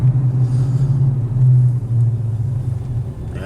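Car driving around a traffic circle, heard from inside as a steady low engine and road rumble with a droning hum, fairly loud and continuous, no talking.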